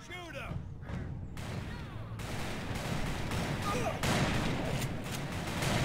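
Gunfire in the Western shooter game Call of Juarez: Bound in Blood, a fusillade of shots aimed at enemies behind cover through a roof, popping repeatedly and unevenly amid continuous game noise.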